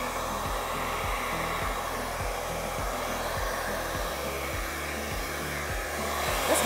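A hair dryer blows steadily with a constant whooshing roar and a low motor hum, close and loud throughout, swelling slightly at the end.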